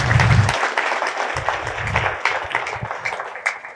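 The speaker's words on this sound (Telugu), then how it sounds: "ఆనంద్ గారికి గట్టిగా చప్పట్లు కొడదాం" A seated audience at a Telugu motivational talk breaks into applause, a loud, fairly even wash of clapping with a few low thumps, lasting a few seconds.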